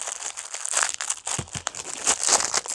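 Loud, close crinkling and crumpling of a tightly taped package of tea lights being forced open, with tearing plastic and tape, a few sharp thumps, and no talking.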